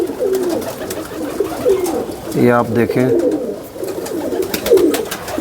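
Pigeons kept for competitive flying coo steadily nearby, with a louder burst of rolling coos midway, while someone talks over them close to the microphone.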